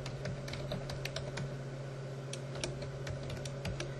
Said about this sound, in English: I'm going to type in what I know as the administrator username and password for that computer.